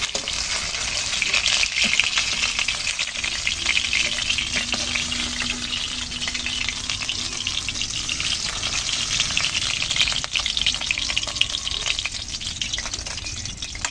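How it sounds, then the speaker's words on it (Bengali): Fish fries in hot oil with a loud, continuous crackling sizzle that holds steady throughout, close to the pan, with occasional faint clatters. "সব মাছটা সুন্দর করে ভেজে তুলে নিলাম।"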